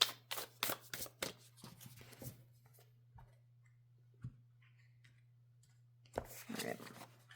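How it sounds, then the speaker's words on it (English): Tarot cards riffled and shuffled in a few quick bursts at the start, then a soft pause with faint taps, and another shuffle near the end, close and crisp with a steady low hum underneath. "One more shuffle."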